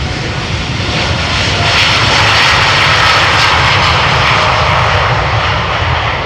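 A jet airliner takes off from the Polderbaan runway 36L at Amsterdam Schiphol, its engines a loud, steady, broadband roar that swells slightly midway, heard close by with no talk.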